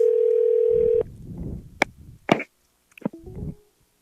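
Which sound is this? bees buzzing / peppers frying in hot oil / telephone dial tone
telephone dial tone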